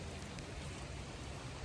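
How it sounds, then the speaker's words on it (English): Heavy rain pours steadily during outdoor mulch spreading, a dense, constant broadband hiss of drops striking surfaces close by, with no voices. "Sometimes it rains, sometimes it pours. It's definitely pouring right now."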